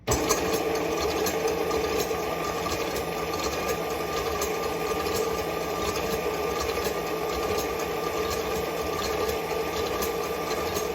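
An electric mixer whips macaron meringue on slow speed, a steady mechanical whir with faint rhythmic rattling, close, even and uninterrupted throughout with no speech.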